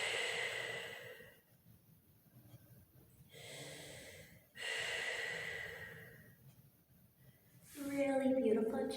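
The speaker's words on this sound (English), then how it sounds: "Take about two more deep breaths here." Deep breathing during a yoga flow, with slow, long inhales and exhales alternating with quiet pauses and ending in a loud, breathy sigh, heard close up.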